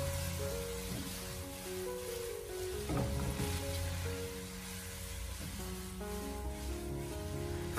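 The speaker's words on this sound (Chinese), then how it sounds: "紧接着再把鸡丁重新回锅，然后再继续开大火，把它快速的翻炒均匀" Diced chicken breast and cucumber stir-fried over high heat, a loud continuous sizzle with occasional bursts as the pieces are tossed and scraped across the hot pan.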